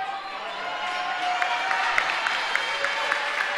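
Home crowd at a high school girls' basketball game applauds a player who has just fouled out, a steady, moderate clapping with some crowd murmur, gently building over a few seconds.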